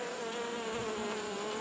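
Agitated honey bees swarm around a queen cage as they reject a new queen, a dense, steady, close buzzing drone with no pauses and no voices.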